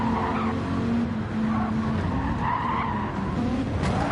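A race car in Gran Turismo 7 spins out, its tires skidding and squealing loudly and steadily across a few seconds with engine noise underneath, during a Gr.4 Viper race.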